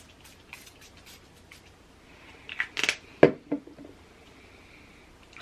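A short burst of Lovely Human body spray hissing from its can, a brief close spritz that stands out against quiet background with a few small handling clicks around it.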